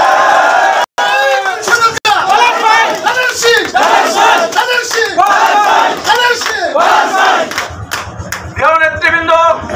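A large crowd at a BNP political rally in Banchharampur chants a slogan in unison, loud and rhythmic, with repeated shouted phrases echoing over the gathering.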